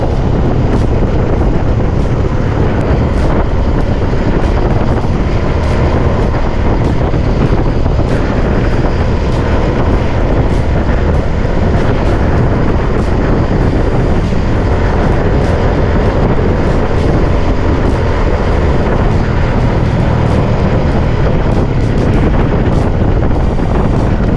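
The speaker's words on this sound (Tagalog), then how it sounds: "Lakas ng hangin." Strong wind blasts across the microphone outdoors, a loud, constant rumbling roar with gusty buffeting that lasts the whole stretch. Nobody speaks.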